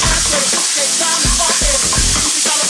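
Imitation crab sautéing in a hot pan with olive oil, a loud constant sizzle with repeated scraping and stirring strokes roughly every half second, close and continuous, no voices.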